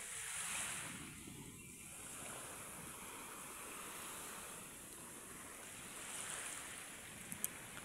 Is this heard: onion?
no